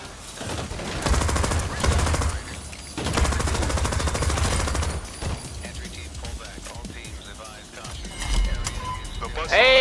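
Bursts of automatic gunfire in the video game Crime Boss Rockay City, loud rattling volleys broken by short pauses, with players talking over the shooting.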